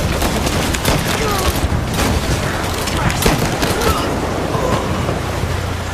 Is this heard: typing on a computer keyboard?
no